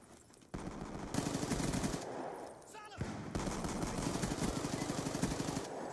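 Rapid machine gun fire from the Black Ops 2 video game comes in two long sustained bursts separated by a brief break, loud and close, with a player's voice speaking over the shooting.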